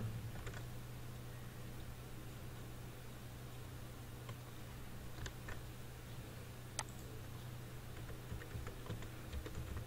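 Light typing on a computer keyboard, heard as faint scattered key clicks in short bursts over a steady hum of background noise. No one speaks.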